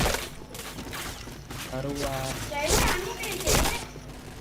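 Video game gunfire plays in rapid bursts and single cracks as headshots land in a Nobunaga katana match, the shots punching through continuous talking.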